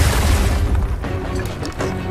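A frag grenade blast in the Gears of War 4 video game: a loud, heavy low boom with crashing debris that fills the whole moment, followed by a few sharp pops and rumbling game noise.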